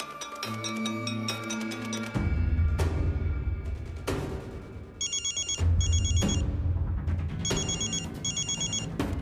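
A telephone rings in a Marathi TV serial scene, a melodic electronic ringtone repeating in bursts with sharp beeping chimes over background music; the ring is loud and close, with no one speaking.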